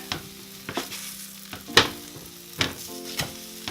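French toast cooks in butter in a pan, with a low steady sizzle running under a few sharp clacks and scrapes from a spatula as the slices are moved and flipped.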